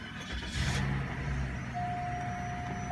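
Warm-ish car engine idling just after start-up, a steady low rumble with a thin, steady whine running over it, close and continuous without talk.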